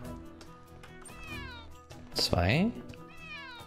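A cat in the video game Crossroads Inn gives one loud, drawn-out meow, close and prominent, while someone talks quietly before it.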